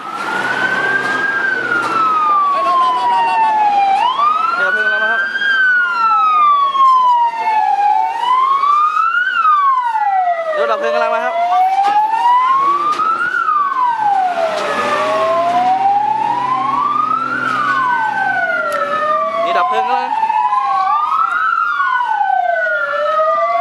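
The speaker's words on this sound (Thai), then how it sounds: "ตัวนี้รถรถดับเพลิงกำลังมาครับ" A loud wailing fire truck siren sweeps up and down continuously, with overlapping siren tones layered together as the truck approaches a fire.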